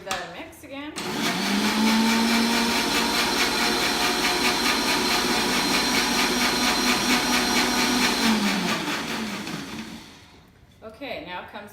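A countertop blender whirs steadily for about nine seconds while mixing homemade mayonnaise ingredients, loud and close with a constant motor drone, starting and stopping abruptly with brief handling noise on either side.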